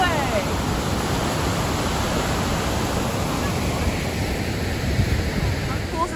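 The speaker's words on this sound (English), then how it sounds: "How cool is this highway waterfall?" A waterfall beside a highway roars as steady, broadband rushing water, loud and continuous throughout with some wind buffeting.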